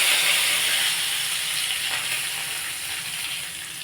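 Curry leaves dropped into hot oil already holding fried fennel powder, a loud, steady frying sizzle and hiss that fades slightly over a few seconds, with no voices.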